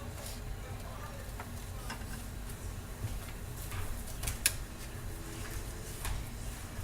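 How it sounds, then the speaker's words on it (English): Milk is stirred slowly into batter with a spoon in a bowl, making a soft, continuous scraping and sloshing. The sound is faint and steady, with a few small clinks. "I'm just going to slowly add in the milk. I'm stirring."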